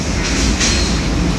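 A steady, loud rush of blowing air from a hand dryer in a restroom runs throughout, close by, with no speech, then cuts off abruptly at the end.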